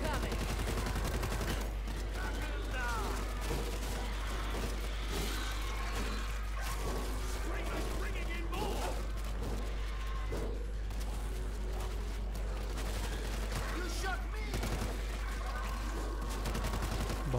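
Dense, continuous gunfire with rapid bursts and shots layered over a busy game soundscape in World War Z, a zombie shooter, loud throughout, with occasional voices underneath.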